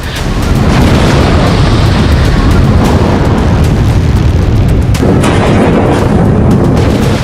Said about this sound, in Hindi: आसमान से गिरती एक मिसाइल और पलक झपकते ही सब कुछ राख।